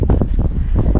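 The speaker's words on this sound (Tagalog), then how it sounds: "Ay, mahangin." Strong wind buffets an outdoor microphone in steady, loud low-frequency gusts that rumble and flutter throughout, with no clear voices.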